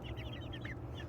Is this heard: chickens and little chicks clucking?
yes